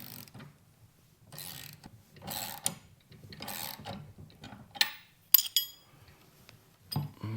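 Nuts being tightened with a wrench while installing a lawn striper kit, a series of close metallic ratcheting bursts and clinks separated by short pauses, with a few sharper taps near the end and no talk.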